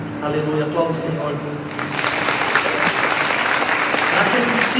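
A church congregation breaks into applause, which starts after a preacher's voice and swells into a dense, steady wash of clapping that lasts to the end.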